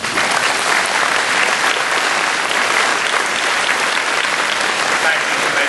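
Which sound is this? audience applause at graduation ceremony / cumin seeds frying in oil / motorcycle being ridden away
audience applause at graduation ceremony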